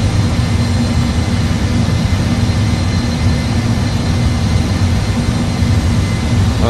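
Airliner jet engines hold takeoff thrust, a loud, constant roar with a heavy low rumble and broadband hiss that stays level throughout, with no talking.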